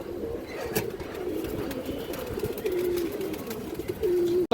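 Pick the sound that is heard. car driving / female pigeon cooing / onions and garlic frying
female pigeon cooing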